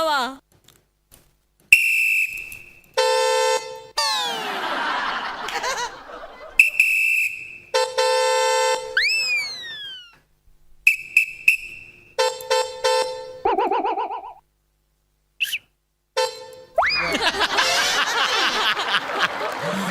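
On a comedy stage, performers imitate a truck horn with their voices, giving repeated tonal honks and sliding whistles separated by silences, ending in a noisy burst like laughter or applause.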